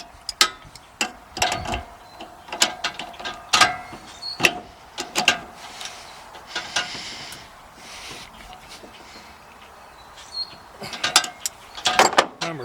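Old channel-lock pliers tighten a swivel fitting on a wooden pressure-washing truck skid, making repeated close metallic clicks, ratcheting ticks and scraping grips in irregular bursts.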